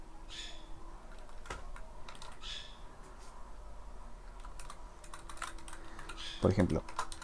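Keys clack on a computer keyboard as shortcuts are typed in a code editor, faint isolated taps and short bursts spread across the stretch, with one louder cluster near the end.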